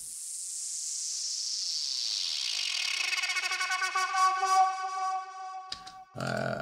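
A hard trance synth riser sweeps downward in pitch from a hiss into buzzy tones, growing busier and louder, then cuts off abruptly into a low thump.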